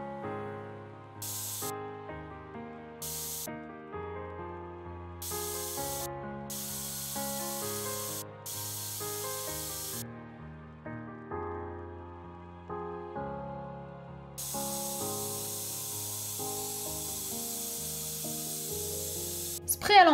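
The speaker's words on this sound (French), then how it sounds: "qu'il entende le bruit et qu'il sente l'objet sur sa peau" A spray bottle used in an animal desensitization session gives several short hissing bursts, some longer than others, quiet under soft background piano music.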